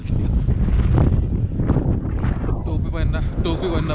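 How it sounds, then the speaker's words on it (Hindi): Cold wind at Zero Point in Sikkim, a loud steady roar buffeting the microphone throughout, with a faint voice underneath. "ठंडी ठंडी हवा चलती है।"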